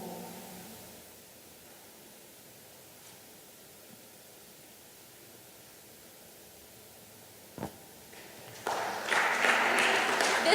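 An audience at a re:publica 2015 conference session breaks into clapping near the end, a dense burst of applause rising after a long stretch of quiet room tone.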